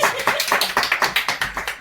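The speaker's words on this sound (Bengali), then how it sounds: "হাততালি সবাই" A small group claps together at a birthday party, a quick run of steady, close handclaps lasting under two seconds.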